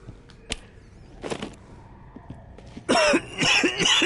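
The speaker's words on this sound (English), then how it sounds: "So I'm coughing now because I'm injured." A series of harsh, raspy coughs from an injured character in the video game The Walking Dead: Saints and Sinners, a couple of short ones early on and then a loud, drawn-out coughing fit at the end.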